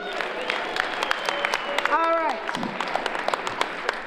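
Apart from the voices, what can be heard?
audience applause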